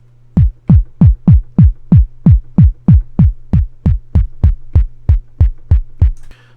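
Punchy synthesized kick drum from the MSubLab software plugin, a SubLab clone, struck about sixteen times in a steady, even rhythm. Each hit is loud with a sharp attack and a falling boom over a constant low sub hum, with no voices.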